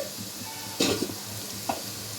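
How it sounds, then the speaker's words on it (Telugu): Carrot pieces fry in a pan with a low, even sizzle, interrupted by a couple of sharp scraping stirs or clinks against the pan, close and fairly quiet, with no speech. "అప్పుడు ఈవెన్గా ముక్కలన్నీ ఫ్రై అవుతాయి"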